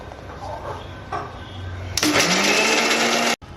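A mixer grinder whirs loudly as it blends poppy seeds, green chillies and water into a spice paste for a rohu fish curry, starting abruptly after a quieter stretch of background noise and cutting off sharply near the end.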